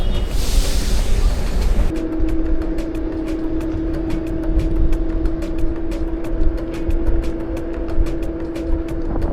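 A train running between Rome and Milan gives a loud, steady rumble with a sustained tonal hum and a regular train of sharp clicks from the rails.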